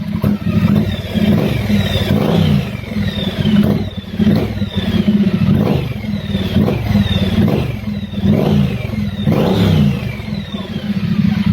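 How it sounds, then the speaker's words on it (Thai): A Triumph Street Twin motorcycle fitted with a slip-on exhaust, its throttle blipped repeatedly: about six loud, close revs climb and fall back to idle in a regular rhythm, with no talking. "ฟังจังหวะเปิดคันเร่งกันนะครับ"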